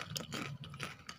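Someone bites into a crispy fried wonton served with chicken noodles, making a few quiet, short crunchy snaps.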